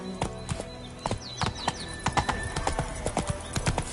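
Roach, a horse in The Witcher 3, trotting with brisk, evenly spaced hoof clip-clops close by, a short whinny rising over the hoofbeats.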